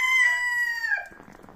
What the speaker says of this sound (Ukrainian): Півень бушує.